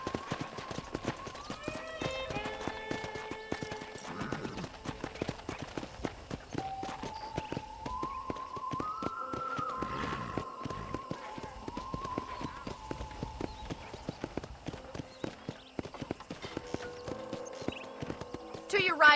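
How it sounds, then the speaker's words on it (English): Horse hooves clip-clop at a steady walking-to-trotting rhythm in the Red Dead Redemption video game, moderately close and continuous under background music tones and in-game speech. "I picked out a fine horse for you."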